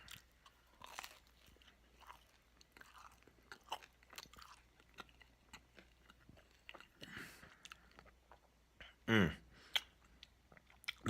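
Someone chews a bite of convenience-store pizza with bacon, cheese and a fluffy, slightly crunchy crust, giving soft close mastication sounds with a few crisp crunches and one louder bite near the end.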